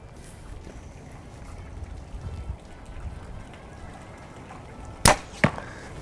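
Arrow shot from an Elite Basin compound bow outdoors, a quiet backdrop then one sharp loud release snap followed moments later by a second crisp thud of the arrow landing.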